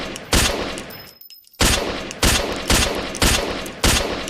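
Gunfire in the video game Drop In, alpha build: loud, evenly spaced bursts of shots repeat roughly every half second, broken by one brief pause, with no talking over them.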